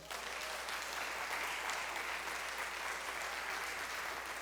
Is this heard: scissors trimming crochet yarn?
no